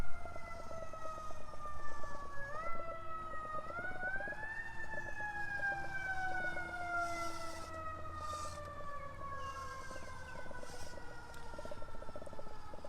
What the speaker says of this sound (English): The siren's going like crazy here too.